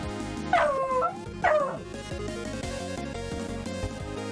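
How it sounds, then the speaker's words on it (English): Dogs barking and yipping: two sharp high yelps stand out near the start, followed by a run of smaller yips and whimpering barks over a steady background, fairly loud and close. "These dogs. It's weird. You yell at them to be quiet and they don't listen."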